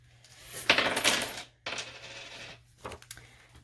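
Coins are handled and dropped while cash is sorted into budget envelopes, a close jingle and clatter of metal pieces in several bursts with short pauses between them, alone without voices.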